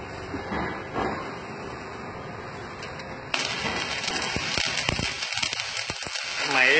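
A Jasic ARC 201A arc welding machine burns a 4 mm rod with a continuous sizzling crackle that abruptly grows louder and harsher partway through and stays steady and close.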